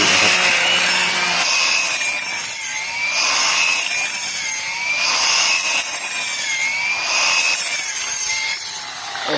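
A high-pitched electric motor whines continuously, rising and falling in waves as a lightweight Osuka electric grass trimmer slices through grass in a melon garden, loud and close with no talking.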